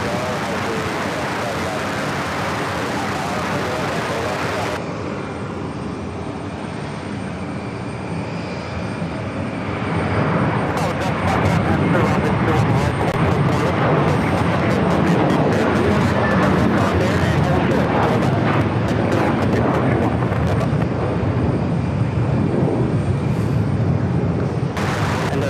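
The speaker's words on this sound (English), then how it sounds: "Next takeoff is heading to LAX. It's the A321T with American." An American Airlines A321T takes off from JFK bound for LAX, its jet roar building from a steady rush into a louder, fuller thunder. Talk is heard over the engine noise.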